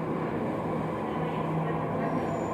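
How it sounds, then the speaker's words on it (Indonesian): An MRT metro train pulls into an underground station on the line from Lebak Bulus toward Bundaran HI, a steady, loud rumbling roar with a low hum that fills the whole moment and never lets up. "Oke, kereta datang"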